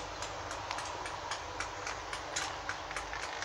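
Class 91 electric locomotive 91102 City of York on the East Coast Main Line at Northallerton, running late, passes with a steady rail roar and a fast run of rhythmic wheel clicks over rail joints, close and loud throughout.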